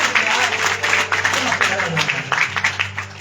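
Audience applause at a Shyam Baba kirtan, a dense, steady wash of clapping from a crowd that continues throughout, with singing or talk mixed in underneath.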